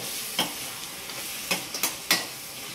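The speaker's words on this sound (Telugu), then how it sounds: "కలుపుకొని ఇప్పుడు నూడిల్స్ వేసేసుకోవాలి దీంట్లో" Egg noodles are stir-fried with curry leaves in a hot pan, giving a steady close sizzle broken by several sharp scraping and tossing strokes of the spatula, with no talking.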